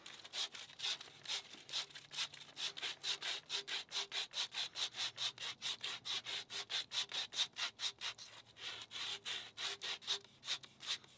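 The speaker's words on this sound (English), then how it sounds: "I'm gonna take our sandpaper. We're gonna clean her all up" Sandpaper rubbed back and forth over a spin-down filter during installation, a steady run of rapid, even abrasive strokes close up, growing quicker and more regular toward the end, with no voices.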